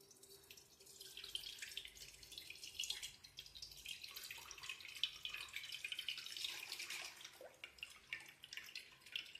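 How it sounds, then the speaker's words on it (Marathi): Running water splashes from a tap into a basin, with drips and sloshing as sago pearls are rinsed for papad, fairly quiet and close. "अजून एका पाण्याने धुवून काढायचं"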